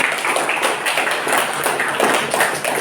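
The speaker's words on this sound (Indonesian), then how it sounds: "berikan tepuk tangan untuk semuanya" A class applauding together at the opening of a first lecture, a dense wash of many hands clapping steadily for about three seconds with no talk over it.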